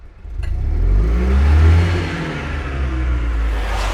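An Invacar's small engine runs with the choke pulled out fully, giving a steady, close, droning idle that swells slightly in revs and then settles, with no voices.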